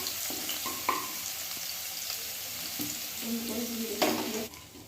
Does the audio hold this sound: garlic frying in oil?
yes